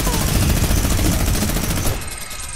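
Sustained rapid gunfire from a minigun in a video game, loud and continuous for about two seconds before cutting to quieter background sound.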